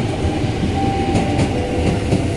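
KRL commuter train, a JR 205 set of 10 cars, at Manggarai station, rolling past with loud rhythmic clickety-clack of wheels over rail joints and a steady rumble, close by.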